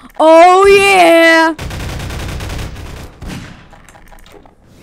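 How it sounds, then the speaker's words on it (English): Rapid bursts of gunfire in the video game Five Nights at Dolly's break out right after a loud, drawn-out vocal exclamation, dense and close, then thin out toward the end. "Wait, we're using guns now?"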